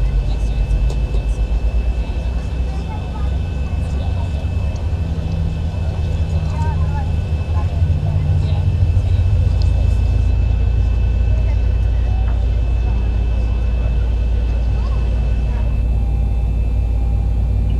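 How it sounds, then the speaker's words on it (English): A Boeing 737-900 jet engine in X-Plane 11 spools up, a low rumble and steady whine building to a loud, sustained roar by the second half, with a person talking over the start. "Watch the engine start spooling up."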